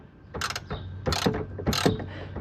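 A small wrench ratchets on a 13 mm hood bolt of an Alfa Romeo 4C, three short bursts of rapid metallic clicking, close and fairly quiet, with no talking.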